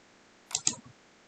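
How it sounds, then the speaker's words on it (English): Two or three quick, close clicks in a short burst, like a computer mouse button being pressed, with quiet before and after. "left click, right mouse click"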